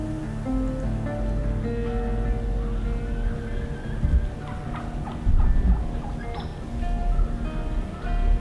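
Wild turkeys gobble in a morning hunting area in Kansas, a few sharp calls rising out of steady ambient noise, with a couple of louder bursts toward the end and no talking.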